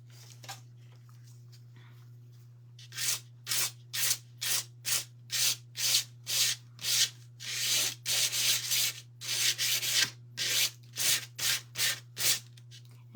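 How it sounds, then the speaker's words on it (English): Sandpaper rubbing over raised edges in about seventeen rhythmic back-and-forth strokes, close and crisp over a steady low hum. "I'm going to take some sandpaper."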